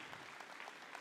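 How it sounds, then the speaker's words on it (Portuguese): A church congregation applauds in a brief, fairly faint wash of steady clapping. "aplauda o Rei. Aplauda Ele."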